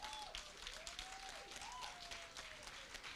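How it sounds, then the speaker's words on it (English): Applause from a debate event audience, steady and moderately distant, with some whistle-like tonal sounds gliding through it and no talk over it. "Please give yourselves a round of applause."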